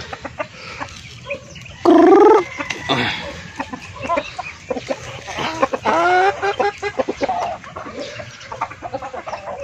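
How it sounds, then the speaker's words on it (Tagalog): Chickens and ducks on a farm cluck, squawk and quack nearby, with sharp loud calls among busy poultry chatter. "Nagpapakain sa ating mga alagang mga manok at pato."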